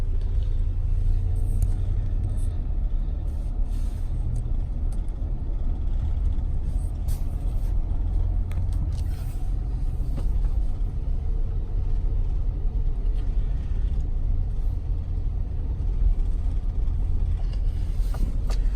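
A car drives along a slightly slanted road with its windows up, giving a steady, low, even rumble of engine and tyre noise that holds at the same level throughout.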